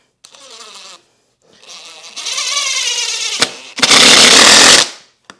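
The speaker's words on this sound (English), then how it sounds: "And then just screw that one down." A power drill drives a 2.5-inch screw into a softwood shelving board, giving loud close whirring bursts in several runs with short gaps and a final strong surge before stopping.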